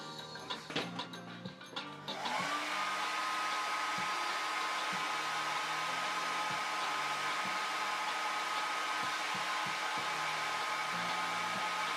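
A hair dryer blow-drying a freshly painted Harley Quinn figure starts up after a few seconds of handling noises, then runs as a loud, steady whirring blast close by.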